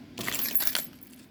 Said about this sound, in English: They placed the keys right in front of me.